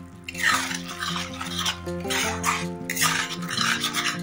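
A utensil scrapes and stirs in a pan of dahi rui, rohu fish curry with yogurt and cashew, in repeated rough strokes, close and moderately loud over steady background music.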